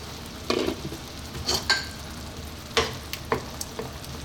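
Chicken hamonado cooking in an uncovered pan, with soft frying crackle and a few sharp clicks and scrapes of stirring or utensils against the pan, fairly quiet and without talk.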